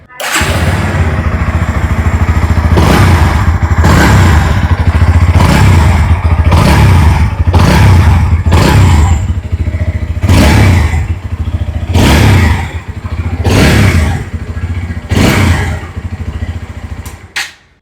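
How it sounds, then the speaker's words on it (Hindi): A 2025 Bajaj Pulsar NS160 motorcycle idles with a deep, loud rumble, and the rider blips the throttle in repeated sharp revs, about a dozen bursts. "आइए अभी सुन लेते हैं इस बाइक की एग्जॉस्ट नोट"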